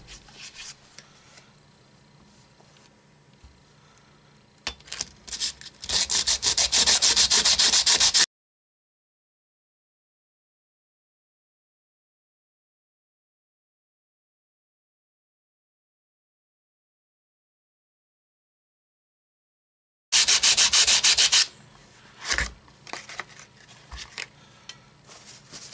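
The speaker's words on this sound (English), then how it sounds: "I'm going to use some of my wet and dry sandpaper to take care of that." Pitted gun metal being hand-sanded with wet and dry sandpaper during re-bluing, giving two loud bursts of rough rasping strokes separated by a long silent gap, with no talk.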